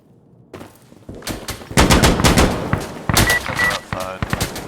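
Gunfire in the tactical shooter Insurgency: Sandstorm, with loud bursts of rifle shots and rapid automatic fire cracking over a dense battle mix, while voices are faintly present.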